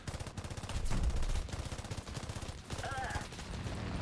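Rapid, steady machine-gun fire from a bottom gunner turret on a Chinese rank I aircraft in War Thunder, a continuous rattling stream that swells louder midway and carries on to the end.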